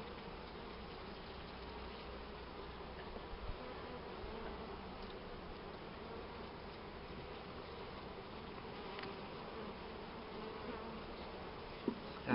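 A colony of honeybees hums continuously and evenly while being moved from a hive into a trap, a close, sustained drone with a few faint knocks near the end and no talk.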